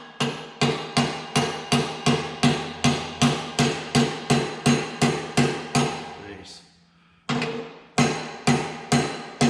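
A washer tapped down onto a saw blade bit tool with a hammer: a steady run of about fifteen close, sharp metallic blows, a brief pause, then several more strikes, with no talking.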